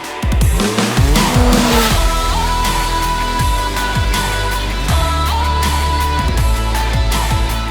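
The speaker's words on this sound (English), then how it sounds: "Today I'm going to take you for a couple pulls on this Can-Am X3 Turbo RR, which has our Dynojet launch control module installed on it." A Can-Am Maverick X3 Turbo RR side-by-side with a Dynojet launch control module launches hard, its engine roaring loud and close through rising revs and gear changes, with tires squealing throughout.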